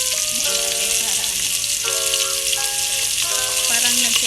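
Onion sizzles steadily in a hot pan while chicken soup is cooked Arabic style, a loud continuous crackling fry close to the mic with faint clinks and tonal kitchen sounds layered over it.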